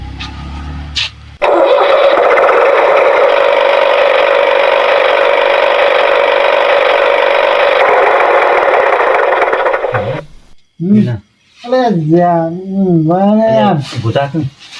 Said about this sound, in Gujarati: ટ્રેક્ટર નો અવાજ આવે છે યાર